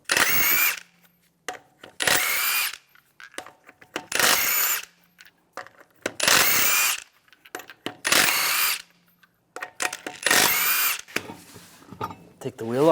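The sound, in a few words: removing wheel lug nuts with 22mm socket on Cadillac Escalade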